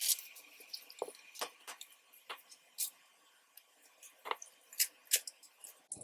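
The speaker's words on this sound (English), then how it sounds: "I'm going to scrape a tiny bit of this shade, and again trying to keep the pan even" Pressed eyeshadow being scraped out of a makeup pan, heard as faint, close scratches and ticks in scattered short bursts against near silence.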